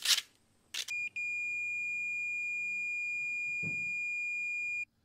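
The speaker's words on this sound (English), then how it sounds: "I'm going to use my multimeter set to continuity and just confirm all the contacts are making connections" A multimeter on continuity setting checks the contacts of a garden tractor ignition key switch, giving a few short beeps and then one long, steady tone that holds for about four seconds and cuts off abruptly.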